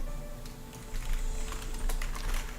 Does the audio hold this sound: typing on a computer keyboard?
yes